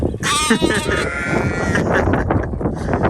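Sheep and lambs bleating on a farm, several overlapping loud wavering bleats close by, mixed with a person talking over the animals.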